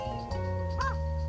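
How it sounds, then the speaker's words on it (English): A single raven or crow gives a loud, clear caw at the Grand Canyon, short and near over steady background noise. "I think they're crows, ravens."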